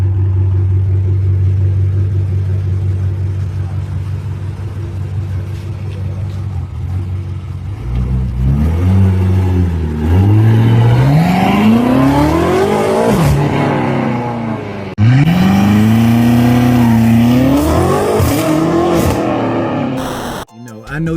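A high-horsepower European SUV engine idles with a deep rumble, then revs hard in rising and falling sweeps, loud and close, with one sharp surge near the end, while someone talks over it.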